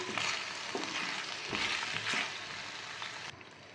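Pasta tossed with sauce and salt in a hot pan, heard as a continuous sizzle and fry broken by several scraping stirs, ending abruptly.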